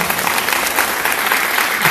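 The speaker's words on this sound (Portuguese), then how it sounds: "aplauda o Senhor pela tua vida" A church congregation claps loudly and steadily in praise during a worship service, a dense wall of close applause with no voice standing out.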